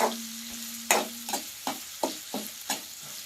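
Chopped onions frying in oil, a soft sizzle punctuated by a steady series of short stirring scrapes, close and fairly quiet.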